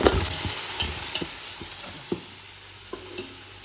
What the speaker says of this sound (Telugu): ఇంక మనం అల్లం వెల్లుల్లి పేస్ట్ వేసుకుందాం. పచ్చివాసన పోయేదాకా బాగా వేగనివ్వాలా.